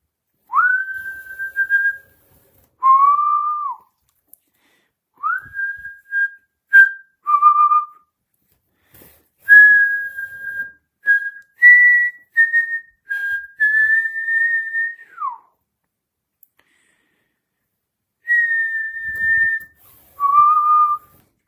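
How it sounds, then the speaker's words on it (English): A person whistles a tune in short melodic phrases with clear pauses between them, loud and close, while working on a leather briefcase with thread. "I'll whistle a little tune to up the engagement."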